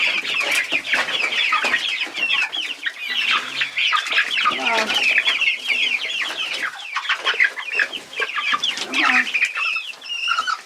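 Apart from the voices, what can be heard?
chicks clucking in the run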